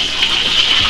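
Hot water gushes steadily into a pan holding jars of crystallized honey, a brief close splashing pour with no talk.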